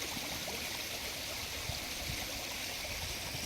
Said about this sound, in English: we're going to fill this test water bottle with water